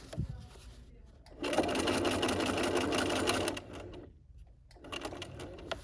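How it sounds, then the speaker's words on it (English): A sewing machine runs top stitching on a dog leash, whirring in a steady burst of about two seconds after a short start. The motor stops and restarts briefly, with soft speech between runs. "stitch on my top stitching here till I get to my blue line"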